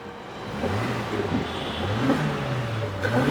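A used car's engine running just after being started, a smooth mid-pitched hum that rises and falls as it revs, close by with steady background noise and no speech.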